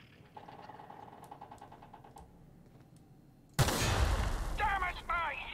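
A knife gun fires in The Outer Worlds video game: after a quiet stretch of faint tapping, a sudden loud burst of gunfire erupts and continues as harsh, clattering blasts with sharp streaks.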